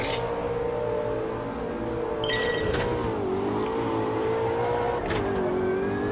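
An Ultima GTR race car launches at Brands Hatch in Automobilista 2, its engine revving hard and climbing through gear changes in a loud, continuous in-car drone with no voices over it.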